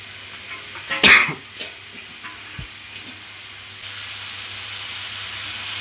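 Cut mushrooms tipped into a hot pan of browned ingredients for a cashew mushroom fry, giving a brief sizzling burst followed by quieter stirring and a low steady frying hiss.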